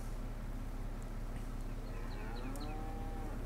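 A cow in Farming Simulator 22 gives a clear, drawn-out moo against a steady farm background, moderately close and heard alone without talk.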